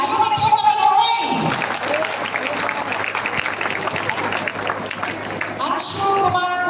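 An audience at a student award ceremony claps in continuous, crowded applause at moderate volume, with a voice speaking briefly near the start and end.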